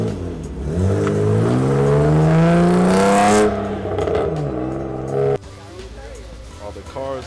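BMW E36 drift car engine revving close by, a loud rising rev that climbs for several seconds, drops sharply, then idles roughly with a brief cut-off near the end.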